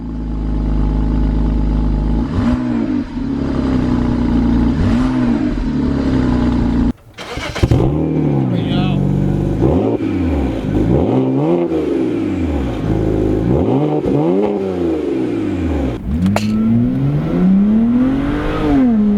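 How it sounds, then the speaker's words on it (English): A car engine with an aftermarket exhaust fires up from a cold start and idles, then revs repeatedly in rising and falling sweeps, loud and close with a deep, throaty exhaust tone. "let's do the before and after of this exhaust"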